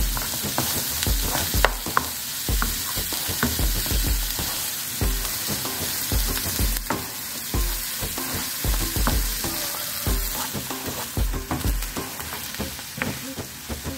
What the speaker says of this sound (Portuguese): Agora vamos misturar.